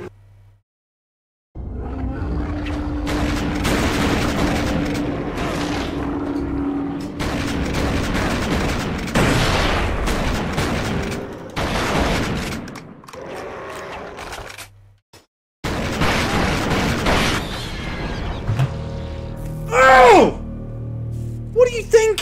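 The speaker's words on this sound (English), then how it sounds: "Why do I keep exploding from nothing?" Video game explosions go off in a burst-filled sequence, with loud booms and crackling blasts separated by brief silent gaps, ending in a cluster of sharper hits.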